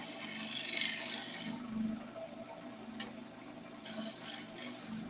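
Woodturning tool cutting wood shavings on a spinning lathe, a steady rasping scrape for the first second and a half, easing to a quieter whir, then the cutting resumes near the end.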